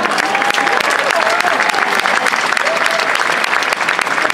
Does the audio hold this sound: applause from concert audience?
yes